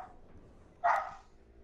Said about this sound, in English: Tell your dog to shut up